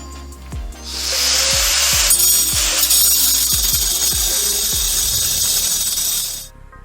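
A loud power tool grinds continuously for several seconds with a harsh hiss, cutting old bolts during a school bus driver seat removal, while metal pieces clink and drop repeatedly beneath it.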